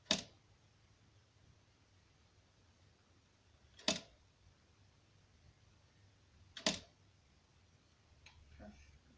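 A manual typewriter key is pressed, giving three sharp, isolated mechanical clacks several seconds apart in a quiet room, followed by a couple of fainter taps.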